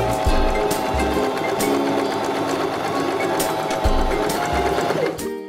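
A Janome 523H sewing machine stitches a buttonhole in fabric, running in a steady fast mechanical whir with rhythmic needle thumps, close and clear, stopping near the end.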